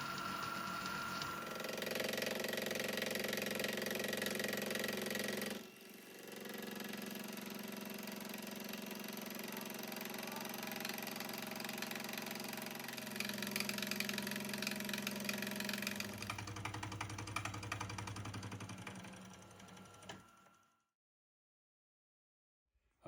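A carbide cutter machines a dry cast iron part with no oil, a steady whirring hum with a grinding edge that shifts pitch partway through before the machine winds down and stops.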